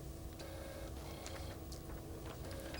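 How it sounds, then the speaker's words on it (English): An external printer dumps a screen graphic from an HP 8920A/8920B RF communications test set, giving a steady close mechanical whir dotted with faint ticks. "I can use the shift print capability to dump that graphic image to an external printer"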